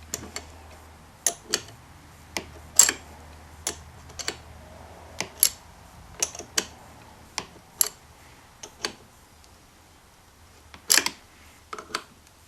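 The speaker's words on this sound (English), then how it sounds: "Take your 9mm open end wrench," Tightening a clamp bolt on a Kawasaki Concours 14 accessory mount with a 9mm open-end wrench: a series of sharp, quiet metallic clicks at irregular intervals, close up, with no voices.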